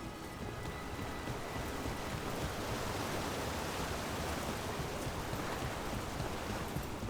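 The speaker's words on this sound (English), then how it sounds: "By the waterfall." A waterfall in the video game Dragon Age: The Veilguard gives a constant, full rushing roar that holds at an even loudness throughout, with no voices.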